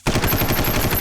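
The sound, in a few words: gunshot in a cartoon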